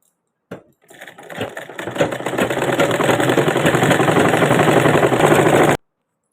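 A sewing machine stitches a shirt in a steady, rapid mechanical chatter that starts after a brief pause, speeds up and runs continuously at close range before cutting off abruptly.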